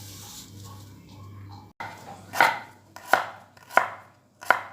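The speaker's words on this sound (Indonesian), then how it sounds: "Ini saya masih potong kecil-kecil dulu biar agar mudah dirajangnya." A knife chops seasonings into small pieces on a board while preparing Balinese lawar, giving four sharp, evenly spaced chops after a low background hum, close and clear with no talking.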